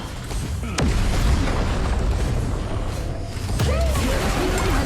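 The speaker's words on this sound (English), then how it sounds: "Your team has destroyed a tower." A tower is destroyed in a Thai-language multiplayer online battle arena game, setting off a deep, booming explosion burst amid dense, continuous game sound effects and clashes, with a second impact a few seconds later.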